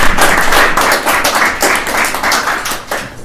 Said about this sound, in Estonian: teeks Krempile ka ühe aplausi.